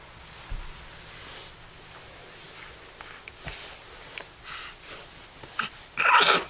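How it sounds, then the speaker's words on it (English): Quiet sniffles and small breaths lead up to a sharp little sneeze near the end, close by with faint background hum. "Yeah, big old sneeze."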